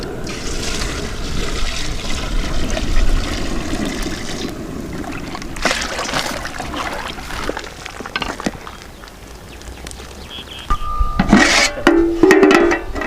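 Water splashes and trickles into a pot of chicken salna on a stove in a busy parotta kitchen, loud and close with clattering and bursts of activity, the pouring uneven over several seconds.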